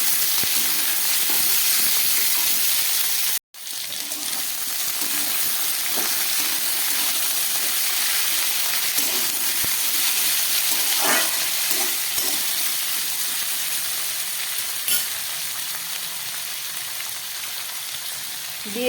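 Beans and mixed vegetables frying in a pan, a loud, continuous sizzle and hiss with occasional soft stirring clicks, close by and without talk.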